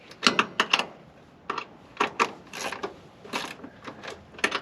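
A wrench turns bolts on the bench seat of a 1964 Ford F100, making bursts of quick metallic ratcheting clicks with short pauses between them, close and fairly crisp.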